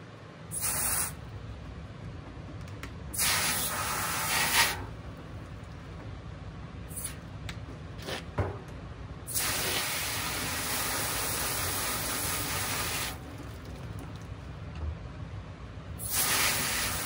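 Water from a hose sprays steadily into a bucket while a gas vac hose and gear are rinsed at a claim site, a continuous close hiss that swells louder in several bursts as the flow shifts.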